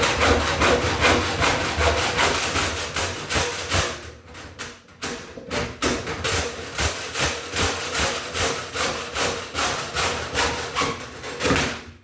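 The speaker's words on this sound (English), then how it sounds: "we'll cut our wire mold to the length we need it to be here with our hacksaw" A hacksaw cuts through Wiremold raceway in fast, even back-and-forth strokes, loud and close, with a short pause midway before the rhythmic rasping resumes.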